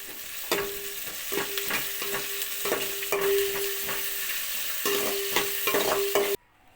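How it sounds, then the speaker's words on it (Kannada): Chopped onions fry in oil in a pot for mutton sambar, a constant hissing sizzle punctuated by a steady series of rhythmic spatula scrapes and taps, ending abruptly in near silence. "ನೀಟಾಗಿ ಈರುಳ್ಳಿ ಎಲ್ಲ ಕೆಂಪಗಾಗೋವರೆಗೂ ಫ್ರೈ ಮಾಡಿಕೊಳ್ಳುವ."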